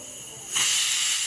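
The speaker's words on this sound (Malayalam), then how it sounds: "ഇതൊന്ന് വേഗം കുക്കായി കിട്ടാൻ വേണ്ടിയിട്ട് ഞാൻ കുക്കറിലാട്ടാണ് ഇടുന്നത്" A pressure cooker cooking green beans releases steam in a sudden loud, steady hiss that starts halfway through and cuts off abruptly, close by and with no voices.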